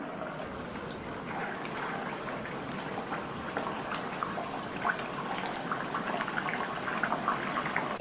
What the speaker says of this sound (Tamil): ரெடி பண்ணி வச்ச வடையை ஒவ்வொன்றா எண்ணெயில் சேர்த்துடலாம்.